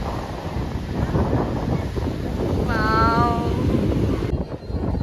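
Wind buffets the microphone over a roar of sea waves at Arnala beach at high tide, with large ships offshore; a voice briefly exclaims partway through.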